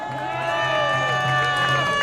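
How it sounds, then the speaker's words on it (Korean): Crowd at an outdoor political rally cheering and shouting together, a dense sustained roar of many voices with whistles or horns sounding through it, loud and continuous. "도태우 변호사님 박수 알려주십시오."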